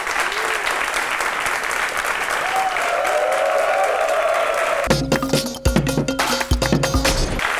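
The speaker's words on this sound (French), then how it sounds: "Applaudissements pour Josaphat Awele et Enoch Boudanou." A studio audience applauds loudly and steadily to welcome two guests onto a French-language talk show, the clapping giving way near the end to music and a few sharp hits.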